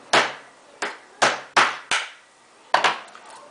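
A Leatherman multitool whacks a screwdriver bit seated in a Kanger dual coil vape head, six sharp, close metallic knocks at uneven intervals, the last a quick double hit, with no talking.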